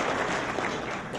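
A dense wash of clapping from a crowd at a civic roundtable luncheon, steady and fairly loud for a brief moment.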